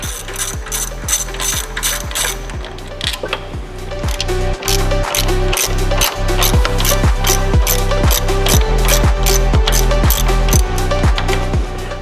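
A ratchet with an extension clicks steadily as it backs out turbo inlet bolts on a 2015-21 Subaru WRX, a fast, even run of sharp pawl ticks that goes on throughout, loud and close, with no talking.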